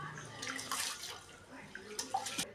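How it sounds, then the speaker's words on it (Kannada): Rice being washed by hand in water while making Kundapura kajjaya, giving soft, quiet sloshing and splashing bursts with light drips, close and faint. "ಚೆನ್ನಾಗಿ ಅಕ್ಕಿನ ತೊಳಿಬೇಕು."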